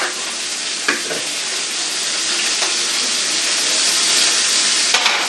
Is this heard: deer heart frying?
yes